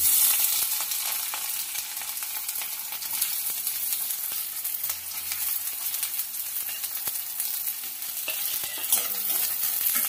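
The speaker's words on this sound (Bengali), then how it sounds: "পেঁয়াজটাকে একটু লাল লাল করে ভেজে নেব।" Sliced onions frying in hot oil in a pan for a mutton masala curry, with a steady, dense sizzle that holds evenly throughout, close up, and no voices.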